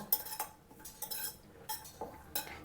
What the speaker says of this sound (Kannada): ಅದೇ ಬಾಂಡ್ಲಿಗೆ ಹಾಕಿ ಸ್ವಲ್ಪ ಅದು ನಿಮಿಷ ಹೋಗೋವರೆಗೂ ಹಿಂಗೆ ಇದನ್ನು ಕೂಡ ಹುರ್ಕೋಬೇಕು